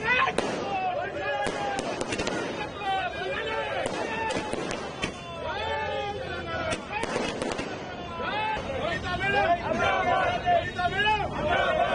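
Rapid bursts of firecrackers crackling and popping close by as political party supporters celebrate, dense irregular bangs over a noisy crowd with people talking.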